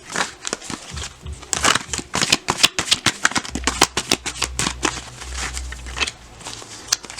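Tarot cards being shuffled and drawn, giving a loud, close run of crisp riffling slaps and flicks in uneven bursts, with a low hum underneath and no talking.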